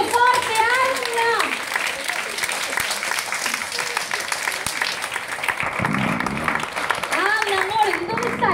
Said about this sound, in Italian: Facciamoci un applauso forte, Anna!